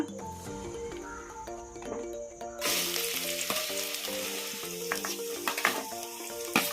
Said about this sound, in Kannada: ಈಗ ಎಣ್ಣೆ ಬಿಸಿಯಾಗಿದೆ ಈಗ ಆನಿಯನ್ ಹಾಕ್ಬಿಡೋಣ